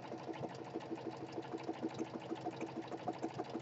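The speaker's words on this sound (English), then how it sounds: "It's a DC5100. It's a really great quilting machine." DC5100 quilting machine stitching steadily, giving a fast, even mechanical chatter with a regular rhythmic beat; the sound is quiet and continuous, with no talking.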